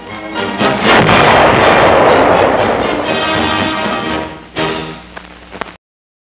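A land mine detonates with a loud, rolling blast that sustains for several seconds before tailing off, followed by a second, smaller burst and a brief crack.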